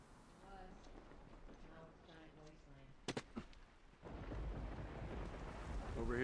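Rolling thunder and rain in the video game The Last of Us, with sharp cracks near the middle followed by a louder steady downpour, under people talking casually.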